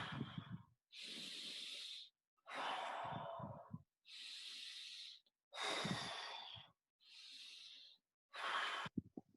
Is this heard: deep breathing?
yes